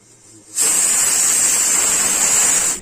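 Steam hisses from a pot of boiling potatoes, about one kilo, being cooked for potato and sago papad; after a brief quiet start, a loud, bright, continuous hiss switches on abruptly and holds steady to the end.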